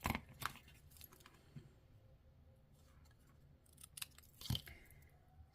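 Scissors trimming cardstock for a Stampin' Up! faceted Easter egg card, giving a few quiet crisp snips and paper rustles spread across a soft background, with one louder snip near the end.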